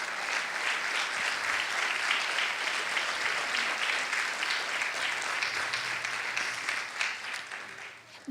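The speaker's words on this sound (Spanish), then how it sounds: "Dale un fuerte aplauso al Rey" Sustained church congregation applause, dense and steady clapping filling the space for several seconds before trailing off at the end.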